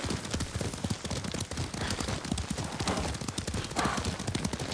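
Horse hooves clip-clop at a steady riding gait through the whole stretch, loud and close, in the samurai-era video game Ghost of Tsushima, with no talk over them.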